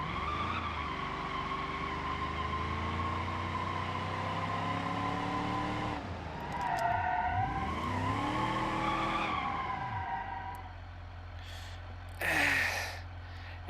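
Tires skid and squeal as a heavy 318-engined police car slides around in a driving game, the engine droning steadily underneath with rising and falling pitch, followed by a short burst of noise near the end.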